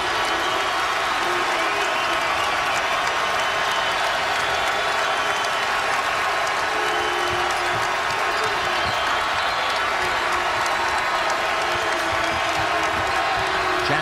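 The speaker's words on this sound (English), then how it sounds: "now the Rupp crowd is starting to rally behind their Wildcats." Kentucky Wildcats home crowd at Rupp Arena during a basketball game against Baylor, with sustained applause and cheering throughout, basketball bounces and sneaker noises mixed in, and commentary over it.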